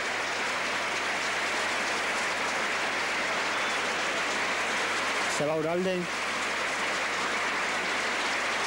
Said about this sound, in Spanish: va a marcharse en medio del aplauso de los aficionados